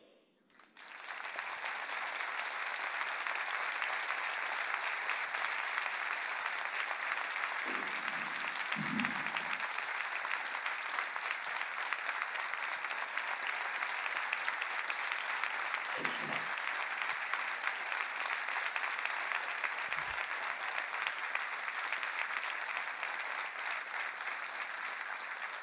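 A large audience in Sweden applauds President Zelenskyy after his speech, giving continuous, steady, dense clapping that holds at an even loudness for a long stretch without pause.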